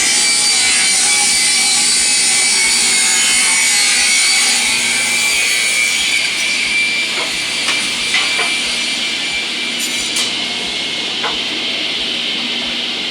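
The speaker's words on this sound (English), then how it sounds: "This is a double table saw machine." A double table saw machine cuts the angled sides of wooden sawhorse pieces, a loud continuous high whine and roar with faint rhythmic knocks underneath, running steadily from start to finish.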